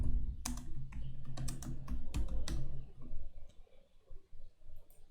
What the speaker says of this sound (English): I'm going to type in a comment.